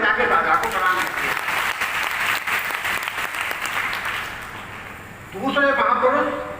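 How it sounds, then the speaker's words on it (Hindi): An audience at a Hindi Day seminar claps steadily and loudly for about five seconds, and a voice then starts speaking over the tail of the applause. "ताली बजा के दादा को प्रणाम करिए"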